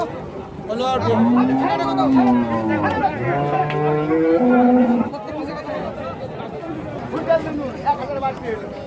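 A six-month pregnant Friesian dairy cow at the Rajshahi city cattle market lets out several long, drawn-out moos close by, over the chatter and hubbub of a crowded livestock market.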